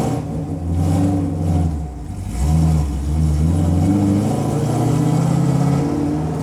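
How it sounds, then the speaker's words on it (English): A car engine revs and falls away as the ignition cuts out, the exhaust note dipping and shifting unevenly through a dead spot in a non-street car, loud and close with no talking. "Couldn't you hear the ignition cutting? Yep. You can hear it kind of like the note of the exhaust change."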